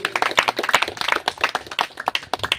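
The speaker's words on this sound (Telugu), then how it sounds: "చప్పట్లు కొడదాం గట్టిగా" Congregation clapping hard during a Telugu Christian sermon, a dense, steady run of sharp hand claps from a crowd, fairly close and loud, continuing without pause.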